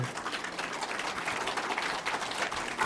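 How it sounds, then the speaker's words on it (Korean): Audience applause at a New Year seminar, a steady broadband patter of many hands clapping at moderate, even loudness for about three seconds with no talk over it. "우리 박수 한번 칠까요?"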